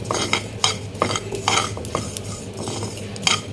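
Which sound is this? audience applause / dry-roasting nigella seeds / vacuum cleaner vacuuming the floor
dry-roasting nigella seeds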